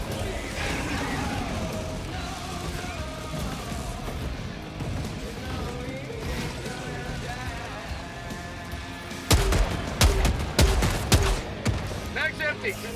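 Gunfire in Helldivers 2, a sci-fi co-op shooter against bugs: busy layered combat noise gives way near the end to a loud cluster of sharp rapid shots, close and intense, with no speech.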